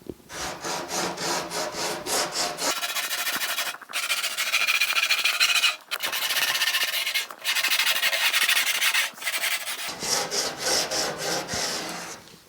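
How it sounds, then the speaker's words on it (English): A wooden circle for a large farmhouse wall clock is hand sanded with a 60 grit sanding block, making steady rasping strokes in bursts, loud and close, with brief pauses between runs and no talking. "I'm going to sand with the 60 grit on the block here."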